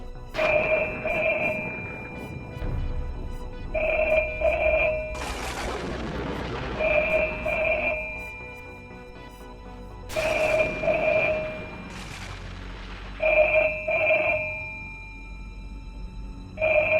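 A telephone rings in a house in repeated short double-tone bursts that recur at intervals, loud and close, broken by heavy booming dramatic sound effects. No one talks.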